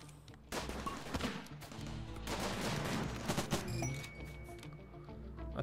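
Rapid bursts of automatic turret fire from a RimWorld colony defense, dense and continuous for several seconds with overlapping crackling shots at steady loudness.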